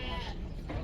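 A ram at a livestock market in Kyzylorda gives a short, faint bleat amid the market's background noise.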